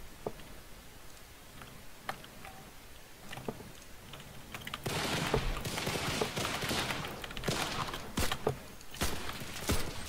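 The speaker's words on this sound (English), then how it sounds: "I started shooting at him to try to maybe help you" Gunfire in the video game Cuisine Royale: sparse sharp shots at first, then louder clustered bursts of firing with clattery impacts in the second half, with no talk.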